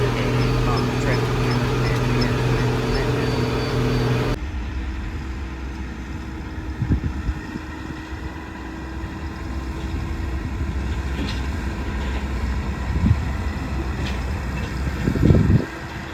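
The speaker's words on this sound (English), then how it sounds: "Tractor." A large tractor's heavy engine idles and rumbles steadily, with a brief louder burst of low mechanical noise partway through, then continued running with occasional knocks.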